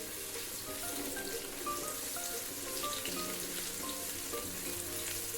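Ginger garlic paste sizzles and fries with golden onions in a pan, a steady dense crackle with scattered pops, close and continuous with no talking.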